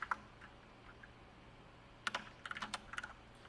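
Quiet keystrokes on a computer keyboard, a few scattered taps at first and then a quick cluster of typing near the end, faint over a low room hum.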